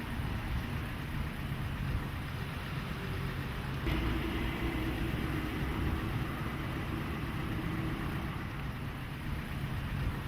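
A car engine idles while the vehicle reverses, giving a steady, even low rumble with a faint broadband hiss that holds unchanged throughout.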